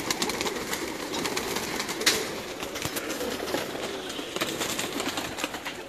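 Many pigeons coo together inside a large loft in Pakistan, a dense, continuous murmur of calls with occasional wing flutters and sharper clicks, nearby and filling the space, with no talking.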